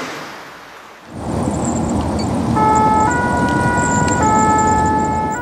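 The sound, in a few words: fire brigade ambulance siren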